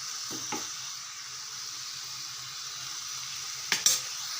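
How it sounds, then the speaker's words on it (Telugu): Ghee sizzling in a pan while carrot, fresh coconut and jaggery laddu mixture cooks, a steady close hiss with a couple of soft stirring scrapes and a sharper clink near the end. "కొంచెం నెయ్యి వేస్తున్నానండి మరి"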